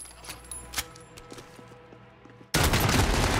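Gunfire in a first-person shooter, a sudden loud burst that cuts in after a quiet, sparse stretch of faint clicks and ticks, then holds as a dense, sustained roar of shots to the end.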